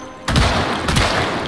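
Gunfire from a firearm in the zombie survival game Project Zomboid, a sudden loud burst of shots followed by a second volley, booming and close.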